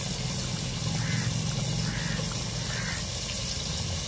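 Water pours into a simmering fish curry gravy in a home kitchen, a soft steady splashing and trickling at moderate volume with no speech.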